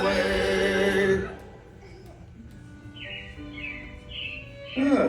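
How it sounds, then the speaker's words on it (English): Robin chirps from the animatronic Carousel of Progress show at Disney, a short series of bright tweets in the second half, following a loud burst of sung music and heard under a low background hum. "It looks like the Robins are getting ready to celebrate Valentine's Day today."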